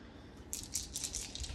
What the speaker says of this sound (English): what I will do is break out some dice here.